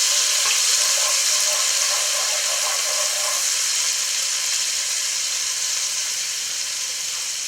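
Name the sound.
minced garlic sizzling in a pan, stirred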